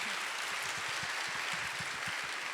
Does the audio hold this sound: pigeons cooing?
no